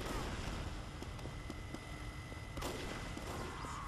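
Gunfire in a competitive Team Fortress 2 style match on the cp_badlands map, with steady broadband shots and explosions running throughout and a sharper burst near the middle, dense and continuous with no clear talk.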